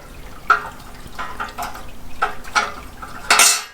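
Metal plates of a rocket stove knocked and slid together as one is wiggled and dropped into place: a series of close, sharp clanks and scrapes, ending in a brighter metallic clatter.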